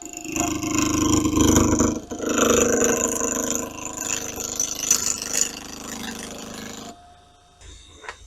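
A power saw fitted with a carbide-tipped blade cuts through wood, giving a loud, sustained rasping roar for about seven seconds before it drops away to a quieter hum and a brief final burst.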